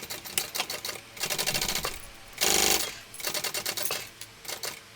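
A sewing machine top stitches a shoulder bag in short bursts of rapid mechanical needle chatter, with pauses between runs and one louder, steadier stretch in the middle, close and clear with no talk.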